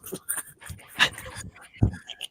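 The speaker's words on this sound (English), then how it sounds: "Dog." Short high whimpers and yips from a dog, several brief cries in quick succession, close and fairly soft, with faint talk in the background.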